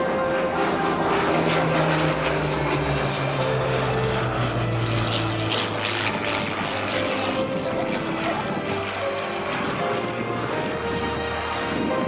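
A propeller aircraft at the 2014 Southport air show, a Bulldog or Hawker Hurricane, drones loudly and steadily throughout with a shifting engine pitch as it passes, alone without talk.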